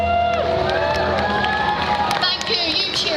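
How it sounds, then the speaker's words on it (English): Loud crowd cheering and whooping at a comic con wrestling segment as a performer dressed as The Undertaker is introduced, dense shouting voices close and continuous for a few seconds. "Thank you, you cheer loudly."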